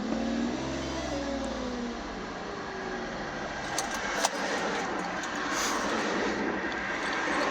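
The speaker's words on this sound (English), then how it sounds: "car starts." A 2012 Ford Escape's engine starts and settles into a steady, fairly loud idle, running continuously with a rising whine near the start and a brief click partway through.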